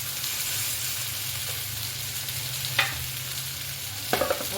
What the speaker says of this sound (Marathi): चालू फ्राय फक्त करायचं